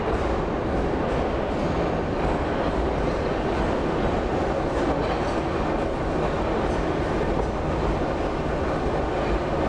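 A Moscow metro train roars steadily through an underground tunnel, a loud continuous rumble with rattling wheels and a dense mechanical hiss throughout.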